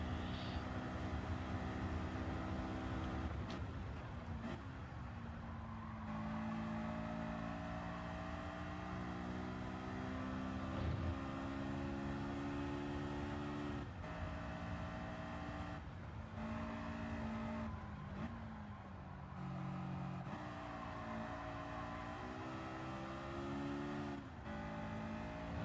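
A Honda VTEC sports car engine in the racing game Gran Turismo 7, held at high revs with a sustained tonal whine that rises and drops through gear changes and braking, continuous and fairly quiet.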